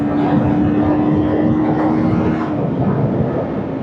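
A Modenas Z15GT six-speed motorcycle engine runs on a first ride, giving a loud, steady, unbroken drone with a faint whine throughout and no talking.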